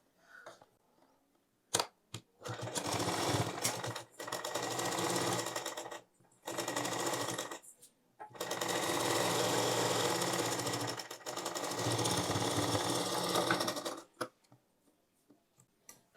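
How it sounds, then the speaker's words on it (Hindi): Sewing machine stitching a blouse runs in loud rapid bursts of a few seconds each, broken by short pauses and clicks, close up with no speech. "सीधा ही सिलाई"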